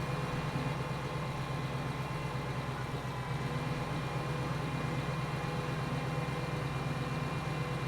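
A big 850-horsepower tractor engine idles steadily in Farming Simulator 15, a constant low, even rumble with no talk over it.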